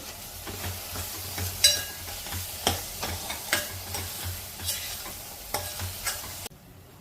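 Capsicum frying for pav bhaji and being stirred in a pan, with repeated spoon scrapes and taps over a continuous sizzle, close up, stopping abruptly near the end.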